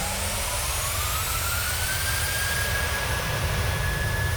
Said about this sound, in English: And there's the sound of the reversers.